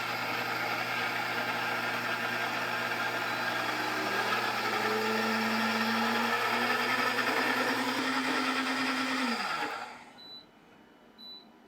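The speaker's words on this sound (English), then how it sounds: "We start to blend." A blender whirs steadily, loud and close, puréeing fermented chocolate reaper peppers for hot sauce, its motor pitch rising slightly before it winds down and stops near the end.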